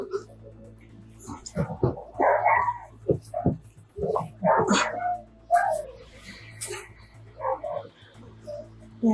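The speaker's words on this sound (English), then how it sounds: "Yeah, we have our dog back here" A dog barks and yips in short, scattered bursts indoors in a home where officers are present, with people talking over and between the barks throughout.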